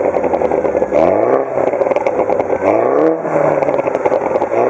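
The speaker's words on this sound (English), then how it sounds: "the original exhaust system which bangs and pops its head off as soon as you put it into sports mode" A Mini Cooper JCW 1.6 litre turbo engine revs up repeatedly through its stock exhaust, each pull rising in pitch before easing off, loud and close, heard from inside the car with no talking.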